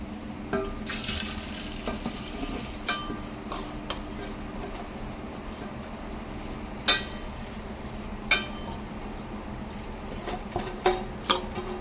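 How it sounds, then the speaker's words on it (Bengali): Dry rice grains poured into a cooking pot for basanti pulao, giving soft rattling and clinking in a few short bursts against faint kitchen background, with no talk. "এবার আমি এই হাঁড়িটার মধ্যে সব চালগুলো দিয়ে দেবো।"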